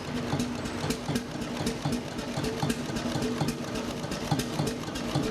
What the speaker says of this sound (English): This simple and reliable system allows the engine to run on heavy oils and deliver strong, low-speed torque.